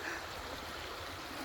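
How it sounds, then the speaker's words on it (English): A small creek in a natural outdoor setting runs with a soft, steady wash of flowing water, faint and continuous, with no voices over it. "I brought you to a beautiful little creek near my house."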